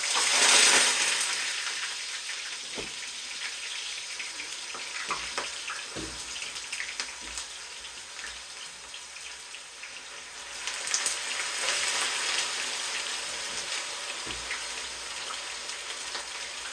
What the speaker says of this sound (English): Our oil is well heated up. Just going to add in the chopped potatoes.